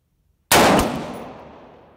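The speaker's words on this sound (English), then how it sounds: "I'm gonna take one more shot here." A single sharp rifle shot from a PSA 5.56 firing reloaded ammunition cracks after a brief silence, very loud and close, then a long echo tails off outdoors.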